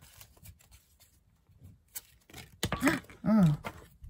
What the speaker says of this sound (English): Make sure I shuffle well.